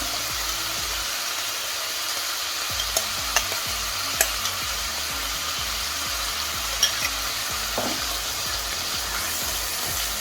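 Korma paste frying over high heat with softened onions makes a continuous hissing sizzle, broken by a repeated low scraping of stirring and a few sharp clicks.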